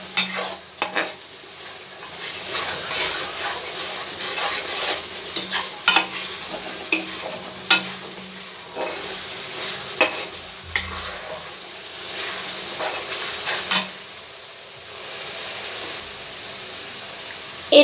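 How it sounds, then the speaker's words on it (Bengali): Spice masala with Kashmiri chili powder fries in a pan over a high gas flame, a steady sizzle broken by repeated scraping stirs and clinks of the spoon against the pan. "খুব ভালো করে মশলাটা আমি ভেজে নেব।"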